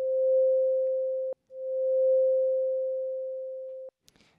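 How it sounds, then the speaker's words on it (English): Synthesized flute-like sine tone shaped with a long attack of about 600 milliseconds and a 550 millisecond release, holding steady without fading; two sustained single-pitch notes, each swelling in slowly, then stopping abruptly. "So we're going to start by building a flute sound, and a flute sound is pretty simple."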